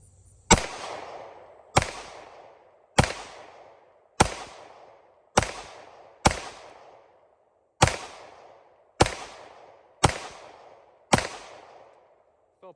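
Eleven slow, evenly spaced handgun shots ring out at an outdoor range aimed at a B8 target, each a sharp loud crack with a short decaying tail, separated by roughly a second of quiet.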